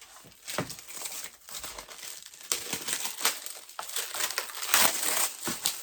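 Cellophane crinkles and crackles in quick irregular bursts as it is handled close by, sharp rustles coming and going without talk.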